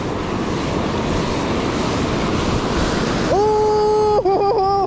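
Ocean surf on a beach during surf fishing produces a loud, continuous, close wash of breaking waves with wind rumble, and a brief tonal cry rises over it near the end.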